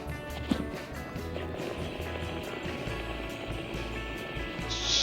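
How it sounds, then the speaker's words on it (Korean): A faint, steady hiss of water leaking from a hot water pipe, with a low rumbling hum and occasional soft knocks underneath. "샤는 소리 들리시죠? 이게 누수음이에요."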